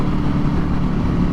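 A Buell 1125R motorcycle engine runs with a loud, steady low rumble that stays even throughout the short stretch, close by and with no talk over it.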